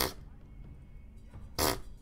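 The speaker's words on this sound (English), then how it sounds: "Fart sound means start here" A fart sound effect rips out loudly, alone, used as a marker in a fighting game with animal characters: a short blast at the start and another about a second and a half later.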